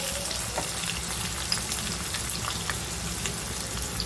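Onions with salt fry steadily in a pan, a dense, even crackling sizzle running throughout at close range, with no voices.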